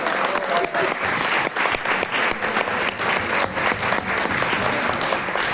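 Sustained applause from a large audience at a choir performance, dense and steady clapping throughout with a faint murmur beneath.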